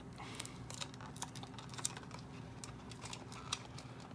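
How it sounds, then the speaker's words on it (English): Tape being peeled off a Rainbow High Special Edition doll box, a faint sequence of small crackling ticks and snaps over a quiet background. "We'll see what it's like when I get all this tape off."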